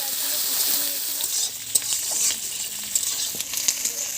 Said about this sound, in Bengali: পেঁয়াজগুলো একটু ভাজা ভাজা করে নিয়েছি।